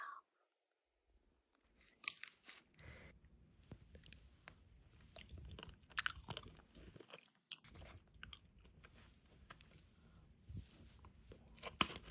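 Someone eats a meal at close range: crunchy bites and soft chewing repeat irregularly after a brief quiet opening, with faint clicks and no talk.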